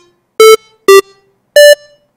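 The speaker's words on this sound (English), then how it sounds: "A square wave is going to sound a bit harsher." Three short, buzzy synthesizer square-wave tones with a bright, harsh edge, each lasting about a fifth of a second, the last one pitched higher, with near silence between them.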